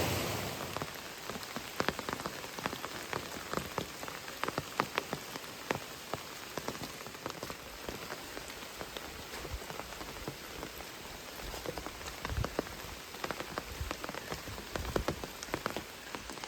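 Steady rain patters on surfaces in a wet wilderness during a backpacking trip along the Wild River, a dense, even hiss with scattered close drops throughout and no voices.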